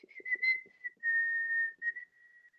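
Someone whistles a short tune close by: a few clear, pure notes, the longest one held steady, with small breaks between them in an otherwise quiet room.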